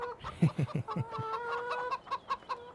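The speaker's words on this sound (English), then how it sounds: "So you got your little chickens. They're all walking around all fat, dumb, and happy." Chickens in a pen in the game Farming Simulator 2017 cluck nearby in quick, choppy bursts that overlap, with a higher sustained clucking call running through the middle.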